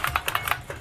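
An IBM 6780 Quietwriter electronic typewriter types a quick burst of about eight soft, evenly spaced keystrokes, faint and close.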